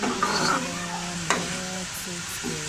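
Stirring and mixing a tamarind chanachat mixture in a pan, a steady soft scraping and sizzling texture with a sharp clink midway, close and continuous with no talk.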